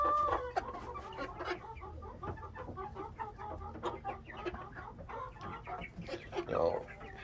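A Jubilee rooster and a flock of young chickens cluck and chatter close by in a steady stream of short calls, with a person talking softly among them.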